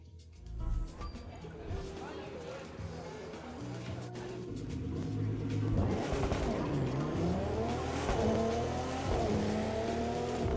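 Turbocharged car engine in The Crew 2 racing game, revving and climbing through gears with rising whine and tire squeal, loud and steady across the clip, with a voice talking over parts of it.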